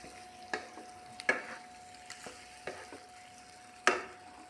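Pork in its gravy being sautéed in a pan for Kerala-style pork pirattiyathu, a soft background sizzle with a few sharp scrapes and knocks of a spoon against the pan, close and quiet, no voices.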